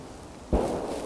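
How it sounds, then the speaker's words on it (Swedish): A gunshot rings out in a Swedish forest during a driven hunt for hoofed game, a single sharp, fairly loud crack that follows quiet woodland ambience and trails off in a short echo. "Det är kul när det smäller i skogen"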